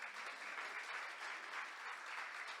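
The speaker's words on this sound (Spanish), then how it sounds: "Dale un aplauso al Señor." A church congregation applauds during a Sunday service, a steady, fairly faint wash of many hands clapping that holds evenly throughout with no break.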